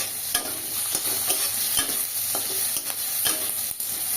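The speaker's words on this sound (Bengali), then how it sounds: "মুগ ডালটাকে ভাজা ভাজা করে" Mung dal fries in a pan with chopped tomato while a spoon stirs it, giving a steady close sizzle broken by repeated scraping strokes at a loose rhythm, without any talk.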